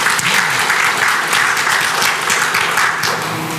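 A church congregation applauds its worship team during a Sunday service, a full, steady burst of clapping that fills the room and fades slightly toward the end.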